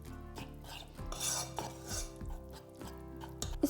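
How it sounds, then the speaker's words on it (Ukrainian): A spoon stirs powdered sugar, water and lemon juice for Easter bread icing in a bowl, with repeated scraping strokes and light metallic clinks against the dish, close up and with no speech. "Промішую все."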